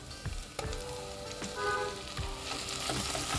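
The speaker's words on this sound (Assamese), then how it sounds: "এয়া মই মিডিয়াম ফ্লেমত ফ্ৰাই কৰি আছোঁ আৰু মাজে মাজে লৰাই আছোঁ" Sliced onions and ginger-garlic paste sizzle in oil over a medium flame for an Assamese-style mutton curry. Steady crackling frying is broken by occasional scraping stirs, close up and with no voices.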